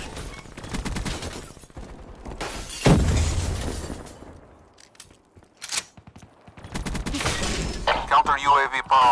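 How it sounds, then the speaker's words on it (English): A hardened sentry gun in Black Ops III opens fire in bursts of sharp, cracking shots, with shattering impacts and game voice announcements and chatter around them. "Sentry opening fire."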